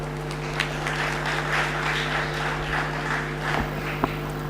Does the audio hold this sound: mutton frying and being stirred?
no